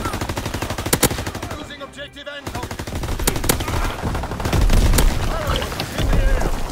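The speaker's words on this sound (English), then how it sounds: "I think my MP40 is even my go-to submachine gun for this map now." An MP40 submachine gun fires in a World War II video game: loud, rapid bursts of automatic fire crackle one after another, mixed with other distant shots and a brief lull.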